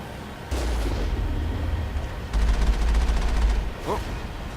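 Gunfire in the sci-fi shooter game Mass Effect: two sustained bursts of heavy, rumbling shots, the second rattling rapidly, with a sharper crack near the end, loud and close over a steady game background.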